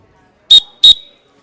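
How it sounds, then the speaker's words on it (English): A sports referee's whistle blown in two short, sharp, loud blasts in quick succession, heard alone against silence. "And that's the final whistle."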